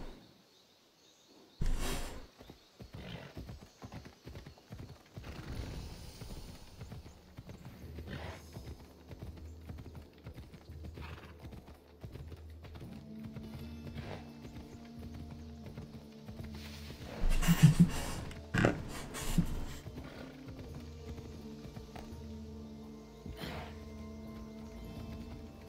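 Horse hoofbeats in Assassin's Creed Odyssey, a rhythmic clip-clop of a galloping mount that starts, stops briefly and picks up again, with a louder cluster of impacts near the end.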